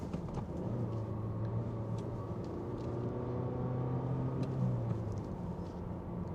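A manual economy car rumbles low and quiet from inside the cabin, then a rising engine blip for a rev-matched downshift into second gear swells and settles back, with no talking.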